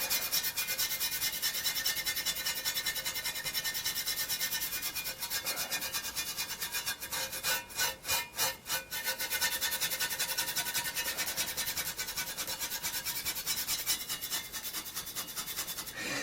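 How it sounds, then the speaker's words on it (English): A small steel brush scrubs a part from a Mac Classic computer, giving a steady, close, continuous rasping scrape that runs almost throughout, with a few brief rhythmic pulses midway. "I've got one of these little steel brushes, and I'm hoping with a lot of work"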